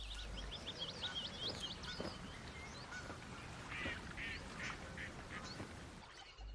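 Wild ducks quack repeatedly in a British marshland, a scattered series of nasal calls at moderate distance over a steady wash of outdoor ambience.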